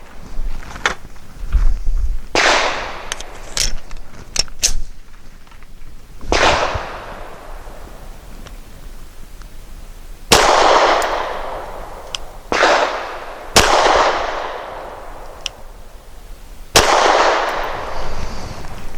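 A Grand Power Q100 pistol fires Barnaul 115 grain steel-cased ammunition outdoors, a string of sharp, loud individual shots at irregular intervals, each cracking and echoing briefly, with no talking.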